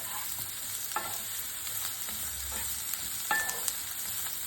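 Chopped onion sautéed in a pan for a Malvani coconut-onion masala: a soft continuous sizzle with occasional scraping stirs of a spoon, quiet and close, with no voices.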